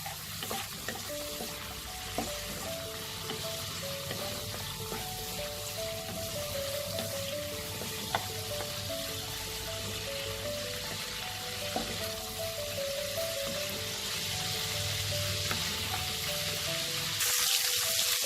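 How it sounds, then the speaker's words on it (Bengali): Bay leaves, dried red chillies, cinnamon and cardamom temper in hot oil for a pointed gourd and prawn curry, giving a steady, soft crackling sizzle with scattered pops that runs on without voices. "2টো শুকনো লঙ্কা, আর একটু দারচিনি, 2টো এলাচ আমি ফোড়ন দেব।"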